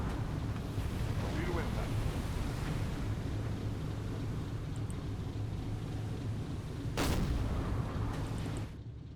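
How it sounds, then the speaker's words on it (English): A torpedo impact in the submarine game Silent Hunter 4 lands as one sharp, loud blast about two-thirds through, rising over a constant low rumble of sea and engine noise. "And we should be getting 2 torpedo impacts."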